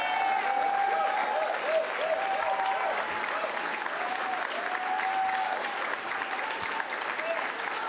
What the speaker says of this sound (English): let's hear a round of applause for our sewer crew